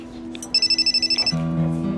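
An electronic phone ringtone for an incoming video call pulses in a rapid string of bright beeps, then shifts to a sustained tonal chime, close and clear.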